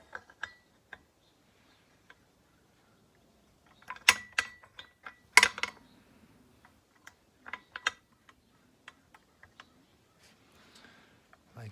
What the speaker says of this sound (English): here's the bolt, and this just will slide in from the front